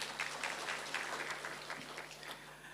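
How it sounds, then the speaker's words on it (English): A conference audience applauds for the Nasfund CEO at an employers' conference, with soft, fairly distant clapping from many hands that fades slightly toward the end. "Let's give him another round of applause."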